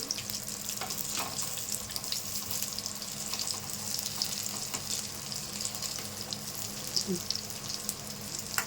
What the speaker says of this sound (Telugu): సిమ్లో ఒక మీడియం ఫ్లేమ్లో పెట్టుకొని వేయించుకోవాలండి